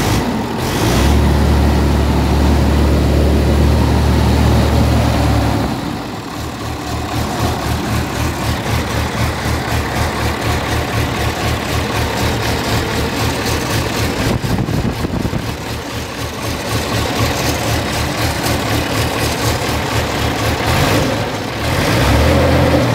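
A Massey Ferguson 1135 tractor engine cranks and starts loudly, then settles into a steady, throbbing diesel idle with slight rises in revs, heard close and without talk.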